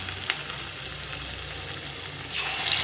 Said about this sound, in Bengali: তো আমি এই পকোড়া রিফাইন তেল দিয়ে ভাজি